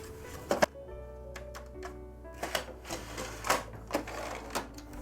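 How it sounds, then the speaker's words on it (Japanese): An inkjet printer runs a print on A6 Super Fine paper, a soft mechanical whir broken by irregular clicks and clacks as the carriage moves, heard close and fairly quiet. "この A6 のスーパーファイン、それを印刷。"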